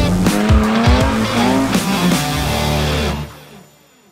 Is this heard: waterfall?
no